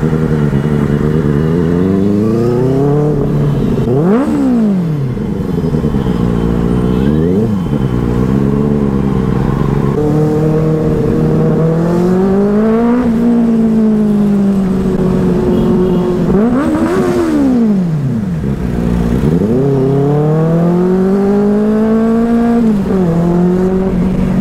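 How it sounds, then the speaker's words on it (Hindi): Honda CBR1000RR Fireblade superbike engine heard while riding, loud and continuous with repeated rises and falls in pitch as the rider revs, shifts and eases off, close and without voices. "सही आवाज़ आती है अपनी बाइक की।"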